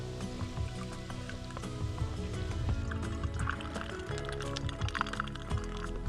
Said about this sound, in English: I just got 3-ish liters of water from the spring back there.